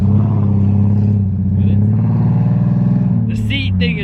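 A Nissan 300ZX engine running steadily while driving on the way to a gas station, a low droning hum that carries throughout, with a person talking over it.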